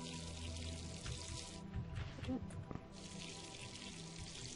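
Watering plants in the video game Wrongworld; a soft, quiet pour of water runs for a few seconds, easing off midway before picking up again, with no talk over it.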